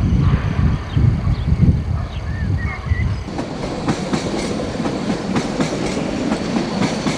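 A class 81 Flirt electric train on the Z72 service to Esztergom rolls past at Rákosrendező station, a loud continuous rumble with rhythmic clickety-clack of wheels over rail joints.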